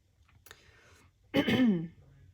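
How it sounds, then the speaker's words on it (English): A person clears their throat once, close up, after a faint earlier catch of breath in an otherwise quiet room. "to clear your throat. Excuse me, like I'm doing now"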